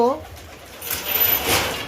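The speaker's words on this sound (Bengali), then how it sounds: "ওই দেখো পায়রা রয়েছে ওখানে বাচ্চাটাকে খাওয়াচ্ছে" Kalanka pigeons, kept in a cage with newborn chicks, let out a brief soft coo at the start, followed by rustling movement while a person talks nearby.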